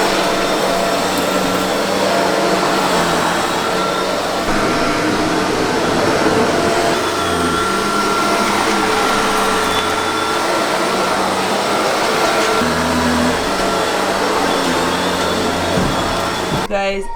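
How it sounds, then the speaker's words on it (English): A vacuum cleaner runs loud and close over a bedroom carpet that is littered with crumbs, a steady roaring whine that continues unbroken to the end. "I'm gonna vacuum because this carpet is disgusting"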